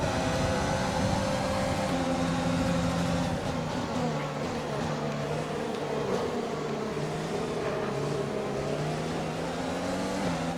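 Racing car engines in an F1 video game at Zandvoort, a steady loud drone with pitch sliding up and down through gears as the field runs after a restart, with a faint voice in the background.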